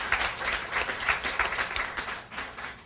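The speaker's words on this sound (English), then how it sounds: "Why don't we give her a round of applause for just elegant problems?" Brief applause from a conference audience, a short burst of many hands clapping at moderate volume that tapers off toward the end.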